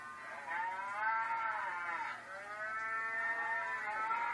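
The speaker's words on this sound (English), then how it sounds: "it's a video of their cows mooing obnoxiously" Cattle on a farm, replayed from an online video, mooing in long, loud, drawn-out calls, two or three overlapping bellows in a row with no talking.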